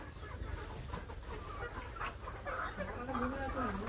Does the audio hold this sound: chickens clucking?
yes